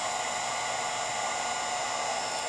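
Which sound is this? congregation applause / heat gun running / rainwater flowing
heat gun running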